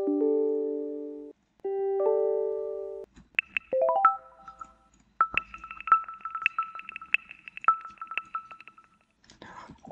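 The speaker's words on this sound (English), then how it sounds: "Always this one kicks me in every time I hear it. Every time I get a notification." Chime tones from a Windows 10 computer give way to a rising run of bright notification notes and a busy stretch of clicky tones, with soft whispery sounds near the end.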